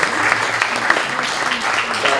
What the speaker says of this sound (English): So everybody just please give a round of applause.